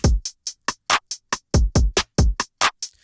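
A programmed drum beat in FL Studio with swing at 100%: booming kicks and crisp hi-hat and snare hits alternating in a lilting, uneven rhythm, with no voices.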